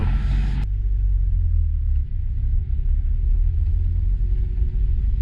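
A Honda Civic Type R Limited Edition on sticky tires moves along the road. A steady, loud low rumble of engine and road noise comes from inside the car, with no speech.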